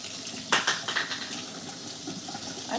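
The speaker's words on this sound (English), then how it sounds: "I'm running my tub onto the hot water part so I do not have to warm it up in here." A hot water tap runs into a bathtub with a steady rushing gush, broken early by a few splashy surges, then settling into an even flow.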